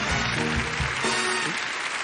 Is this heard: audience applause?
yes